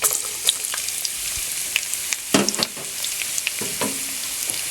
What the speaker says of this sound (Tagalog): Dito po ay igigisa natin itong garlic.